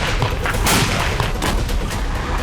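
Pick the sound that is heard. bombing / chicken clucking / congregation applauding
bombing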